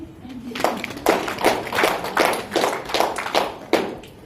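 Audience applause at a gathering, a burst of claps that swells in irregular pulses over a few seconds, fairly close and loud.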